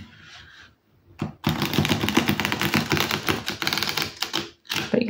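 A rapid, dense run of crisp riffling and flicking of bendy tarot cards from The Serpent and The Peacock Art Tarot deck, close up, with a brief pause and a short burst at the end; no voices.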